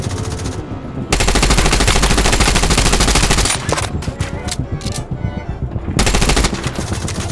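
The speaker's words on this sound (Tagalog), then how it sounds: "You must learn to anticipate the time windows when the turret stops firing." Turret machine gun firing in Tom Clancy's The Division, loud sustained automatic bursts close by, pausing briefly mid-clip before resuming with rapid rattling shots.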